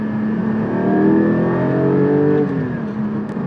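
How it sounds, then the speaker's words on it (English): Porsche 718 GT4 engine, early in break-in with a 6,000 RPM limit, revs up close and loud, its tone climbing smoothly then holding and easing off, with no talking. "These engines really made to rev."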